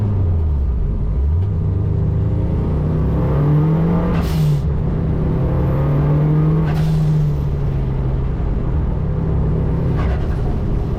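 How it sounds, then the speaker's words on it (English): A home-built rally car drives along country roads, its engine loud and close, climbing in pitch under acceleration and dropping back at each gear change, with no voices. "As I drove my home-built rally car along the roads I used to drive all those years ago"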